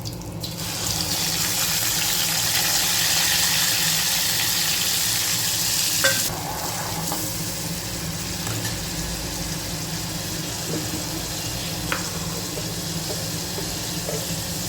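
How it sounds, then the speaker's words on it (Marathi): Ground masala paste frying in hot oil for a fish curry, a loud, dense, continuous sizzle close by that drops slightly in intensity midway, with a few faint knocks of stirring. "हे वाटण आपण या तेलामध्ये घालत आहोत"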